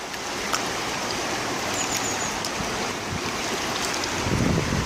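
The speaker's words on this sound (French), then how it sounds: "Donc on met l'eau en bas, on remue bien. On vide." Water sloshing and swirling in a gold panning pan outdoors, a steady broadband wash with a louder splash near the end as the pan is emptied, no talk.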